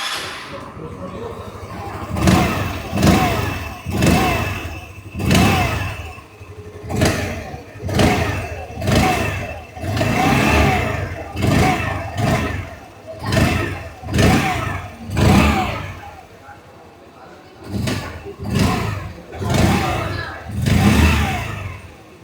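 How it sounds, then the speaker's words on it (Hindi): Hero Destiny 125 Xtec scooter exhaust note, a long series of rhythmic throttle blips rising and falling over idle, close and fairly loud. "आइए अभी सुन लेते हैं इस स्कूटर की एग्जॉस्ट नोट।"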